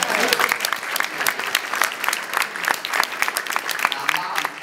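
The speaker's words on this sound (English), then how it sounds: "give him applause" Audience applause fills a comic convention Q&A hall, dense steady clapping from a large crowd throughout, with scattered cheers rising over it.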